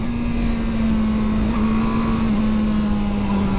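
Yamaha R7 motorcycle out on a road ride, its engine holding a steady, loud drone with a constant tone throughout, no talk over it.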